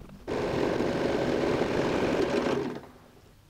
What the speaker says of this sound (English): go and sew top stitch on the other side as well